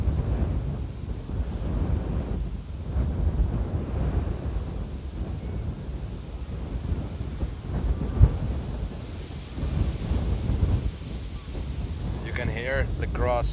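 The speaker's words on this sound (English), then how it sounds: "wow, the winds are really picking up" Strong gusting wind at Amsterdam Airport roars and buffets against the microphone in a constant low rumble, with a faint whine near the end.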